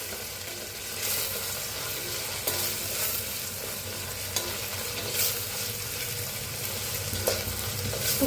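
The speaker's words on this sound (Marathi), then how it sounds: "त्याच्यातच टाकायची थोडीशी कोथिंबीर" Tomato, onion and coriander sizzle in a hot oil tempering while a spoon stirs and scrapes through the pan, a steady close-up frying hiss with periodic clinks.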